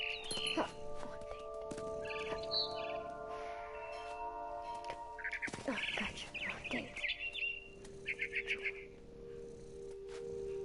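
Bird chirps from a frightened bird in What Remains of Edith Finch, played as a cat: bursts of high twittering and a rapid chirping series near the end, over steady musical drones, with a person talking briefly.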